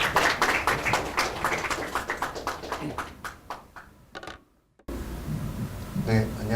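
An audience at an open data forum seminar claps to welcome a keynote speaker, a dense burst of applause from a room that fades out, then drops to silence before room noise returns.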